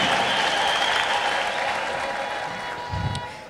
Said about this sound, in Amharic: ደስ ያለው ለእግዚአብሔር እልልታ